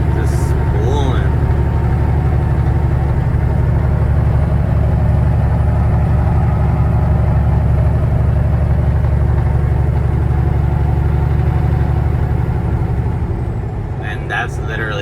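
Custom Kenworth W900 truck engine at quarter throttle with its turbo spooling, a loud, continuous droning roar with a steady whine layered over it, close and constant for the whole stretch.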